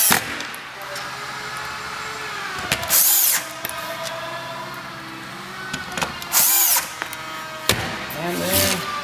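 A power drill drives screws into a shredding container during assembly: three short, separate bursts of whirring motor noise, each lasting under a second, with quieter handling sounds between them.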